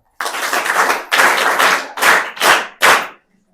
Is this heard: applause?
yes